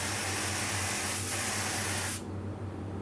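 An LVMP paint spray gun spraying thick epoxy industrial coating gives a loud, steady broadband hiss for about two seconds. It cuts off abruptly, leaving a low background hum.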